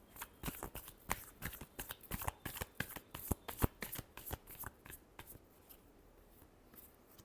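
Tarot cards being shuffled by hand, a quick run of crisp riffling snaps and flutters, close and clear, tapering off toward the end with no talking.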